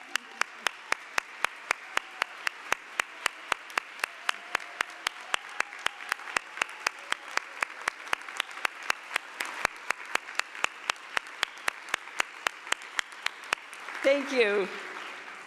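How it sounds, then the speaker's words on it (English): At a women's breakfast celebration, the audience applauds standing grantee partners with long, sustained clapping from a large room, sharp individual claps ticking through the wash, then a voice speaks briefly near the end as it fades. "Please stand up so we can applaud you."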